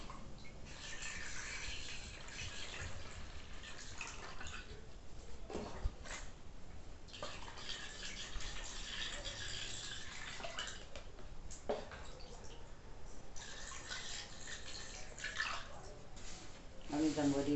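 Homemade creamy liquid disinfectant splashes and gurgles as it is poured from a basin into bottles, a close, uneven pouring sound with brief knocks, and a voice talks intermittently over it.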